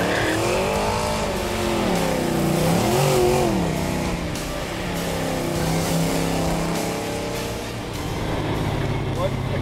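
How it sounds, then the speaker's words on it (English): A V8-powered Corvair drag car launching hard and spinning its tires, a loud sustained engine roar with rising and falling revs close by, voices talking over it. "If I just punch it, she's going to spin tires, right?"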